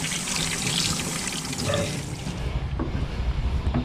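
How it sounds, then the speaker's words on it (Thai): Water splashes and pours steadily as clams are rinsed clean after scraping, a continuous close wash of trickling and sloshing with no voices. "ก็ล้างทำความสะอาดกันอีกรอบหนึ่ง อีกสองสามรอบนะครับผม ล้างให้สะอาดเข้าไว้"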